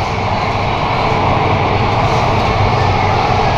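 A Mumbai Aqua Line underground metro train rolls along with a loud, steady, unbroken roar and rumble heard from inside the carriage.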